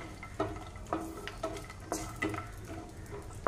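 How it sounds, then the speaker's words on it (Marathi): Cashews roasting in ghee in a pan over medium heat, stirred with a utensil: repeated light scrapes and taps against the pan at a steady stirring rhythm, over a soft background sizzle, close and moderately quiet. "हे असं थोडे तुपात भाजून घ्यायचे आपले काजू।"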